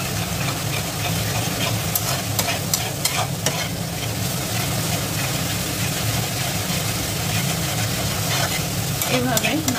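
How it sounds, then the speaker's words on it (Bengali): Onion paste frying and being stirred in hot oil for Amritsari chole, a steady dense sizzle with repeated scraping stirs throughout and a faint low hum underneath. "পেঁয়াজটা একটু ভালোভাবে কষিয়ে নেব"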